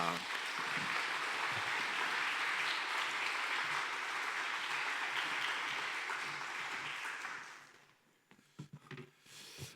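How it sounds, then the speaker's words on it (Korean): A church congregation at a Sunday afternoon service applauds steadily in welcome of a visiting pastor, a dense, sustained clapping that fills the room for about eight seconds before fading into scattered noises and murmurs. "귀한 목사님을 환영하는 우리 박수로 모시도록 하겠습니다"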